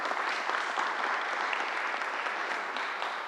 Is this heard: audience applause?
yes